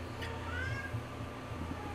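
A cat meows faintly in the background of an indoor room, with a couple of brief, rising cries over a low steady hum.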